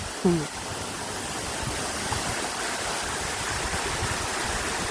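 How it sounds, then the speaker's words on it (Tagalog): Strong river water rushes steadily, a loud broadband wash that fills the whole clip with a brief splash near the start. "Ang lakas ng tubig."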